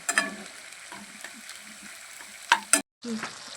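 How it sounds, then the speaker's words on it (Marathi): Potato masala with fried onion stirred in a pan over a light sizzle, with a few sharp scrapes and knocks of the spoon against the pan, a brief silence, then the frying resumes; no talk. "बटाट्यामध्ये भरलेला मसाला आता टाकून घेऊ आणि छान मिक्स करून घेऊ"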